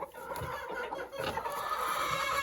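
A hen clucks repeatedly at close range, the calls continuous and somewhat faint over a busy background.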